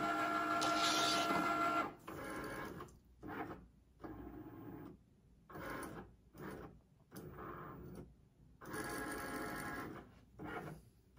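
A Cricut Maker cutting machine cuts stickers, its carriage whirring and buzzing in close mechanical bursts that start and stop in an irregular rhythm with short pauses between passes.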